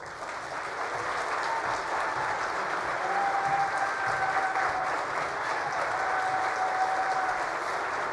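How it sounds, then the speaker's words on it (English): An audience applauds Colorado Governor Jared Polis at an event on government and innovation, a dense, sustained wash of clapping that swells quickly and holds steady, with a faint voice briefly under it. "Please give a round of applause to our governor, Jared Polis."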